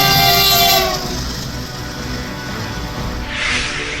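A freight train on a railway track rumbles past, loud and steady, with a horn blaring at the start and a continuous roll of wagons.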